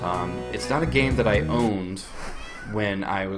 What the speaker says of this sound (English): That's my cat, Sushi.